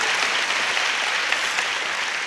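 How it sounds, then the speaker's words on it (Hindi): Sustained, dense applause from a church congregation during a sermon on prayer, loud and even throughout without pauses. "इस पे तालियां बजनी चाहिए थी।"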